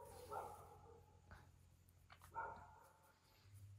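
Two short bursts of dog barking, distant and outdoors, separated by a pause, over a low background hum.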